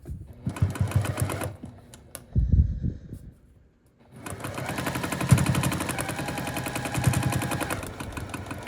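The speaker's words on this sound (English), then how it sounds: "I'm gonna come here and sew on the line between A10 and the center of the block." Sewing machine stitching a foundation paper pieced flying geese quilt block: short bursts of rapid mechanical rattling, a brief pause near silence, then a longer steady run of fast stitching close by.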